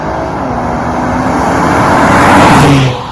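A loud Kia Stinger GT engine revs up and roars close by, exhaust rumbling and rising in pitch before easing off at the end.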